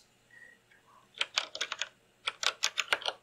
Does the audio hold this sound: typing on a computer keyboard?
yes